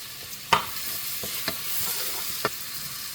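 Mushrooms, garlic and whole cumin sizzle steadily in a hot pan, a close hissing fry with a few sharp stirring clatters, and no voices.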